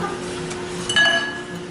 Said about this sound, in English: It fell in the bowl.